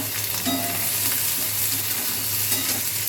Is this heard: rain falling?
no